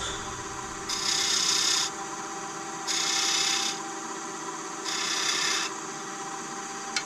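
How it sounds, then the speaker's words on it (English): Sandpaper rubs against a sapele wood bowl spinning on a lathe, in three steady bursts of about a second each, separated by short gaps. A motor hum carries on underneath throughout, and no one speaks. "Give it a little bit of a sand up."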